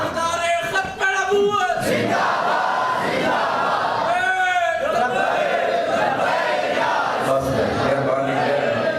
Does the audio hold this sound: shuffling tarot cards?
no